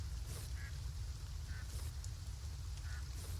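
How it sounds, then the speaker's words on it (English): Ducks in the farming game Farm Together 2 quack in three short, evenly spaced calls over a low steady rumble, faint and unaccompanied by talk. "These little ducks are congregating over here."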